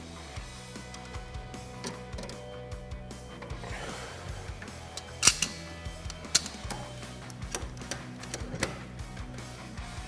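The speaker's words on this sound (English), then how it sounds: "Using a pair of channel locks, disconnect the inner ball and socket from the rack and pinion." Channel-lock pliers work an inner ball and socket loose from the rack and pinion of a Can-Am Defender, giving irregular metallic clicks and clanks that sharpen into louder snaps midway, with no talk.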